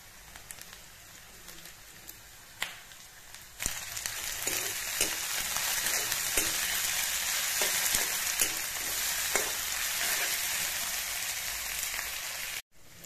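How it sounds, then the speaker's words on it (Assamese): Onions fry in a pan for an Assamese-style chicken curry, making a steady hissing sizzle like rain that builds after a few utensil knocks and stays even, close and moderately loud, ending abruptly. "পিঁয়াজখিনি ফ্ৰাই হৈ আছে।"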